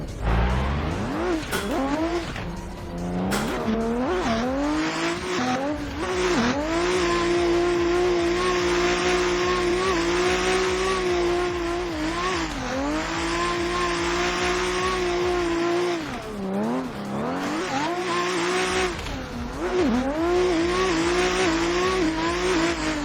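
BMW E30 race car lapping in a racing video game, its engine droning loudly and steadily throughout, rising and falling with gear changes and revving, close and alone without talk.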